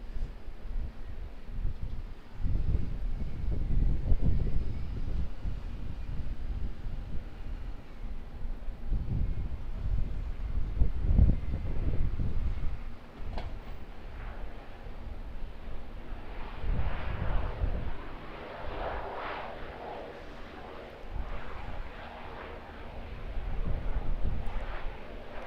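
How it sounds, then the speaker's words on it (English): An ATR 72 turboprop airliner landing at Auckland Airport, its engine roar steady and fairly loud throughout, mixed with buffeting wind noise on the microphone that rises and falls. "Just going to catch this ATR 72 landing."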